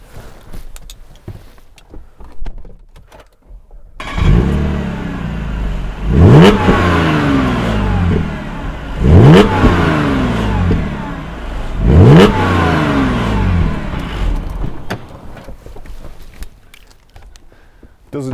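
A 2011 Audi S4 Avant with a 3.0 TFSI V6 engine starts up and then revs hard three times in a row, each rev rising sharply and falling back to idle, loud and close, before the engine settles.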